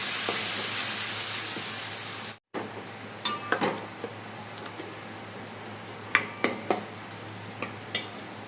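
Chopped vegetables, asafoetida and turmeric drop into hot oil with a bright steady sizzle, then a cut and quieter frying follows, marked by scattered sharp clicks and taps of a spoon on the pan.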